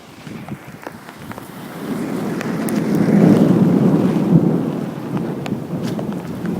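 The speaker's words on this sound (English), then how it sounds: "Countryside storm" A countryside thunderstorm in Piaxtla, Puebla, in August: a deep rolling thunder rumble swells and lingers over heavy rain and gusty wind buffeting the microphone, with scattered sharp drips and crackles.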